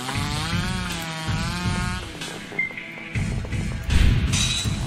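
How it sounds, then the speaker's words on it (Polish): A mini chainsaw in the horror game Mad Father: Remake, a steady buzzing saw whine with game music layered underneath, staying loud and continuous throughout. "Mini chainsaw."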